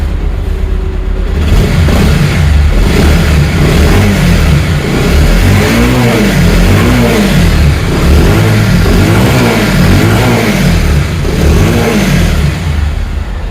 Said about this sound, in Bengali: এই জন্য বাইকটি কিক দিয়ে স্টার্ট করতেছি